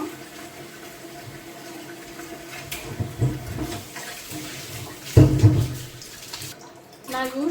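Raw meat for dog food is rinsed under running water in a few splashy, uneven bursts, with a sharp slosh midway, close by in a kitchen.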